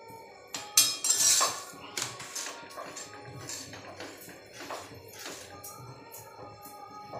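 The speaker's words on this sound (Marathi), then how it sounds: "बाकीच्या चपात्या लाटण्याचं काम इकडे चालू आहे" Chapatis being rolled out with a rolling pin in a home kitchen, a steady run of soft knocks and scrapes with clinking pans and a sharp metallic clatter near the start, no one talking.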